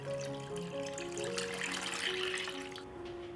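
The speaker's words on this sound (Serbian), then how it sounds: "Sipat ću vodu u šerpu do visine poklopca." Water runs steadily into a pot lined with a cloth and holding glass jars, a continuous pouring splash with rising tonal ringing as the level climbs, close and alone.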